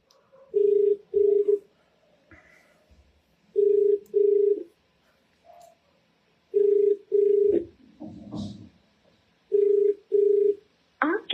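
Outgoing phone call ringing unanswered, the ringback tone sounding in clear repeated paired bursts separated by pauses, loud and close, with faint background rustle between rings.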